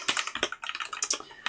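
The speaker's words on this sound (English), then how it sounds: "Now we're going to type on our new keyboard." Typing on a small compact Dragon keyboard, with quick irregular bursts of crisp key clicks and clacks, close and distinct, with a brief pause partway through.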